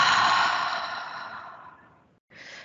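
A slow, breathy exhale with a soft open 'ah' tone fades out over about two seconds, then after a brief pause a fresh nasal inhale begins, close and gentle in a quiet guided meditation setting.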